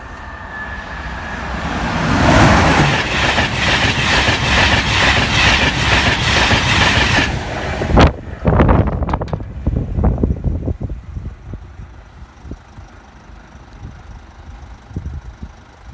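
A train roars past close by at a level crossing with rushing wind, then rhythmic clickety-clack of wheels over rail joints fades as it moves away.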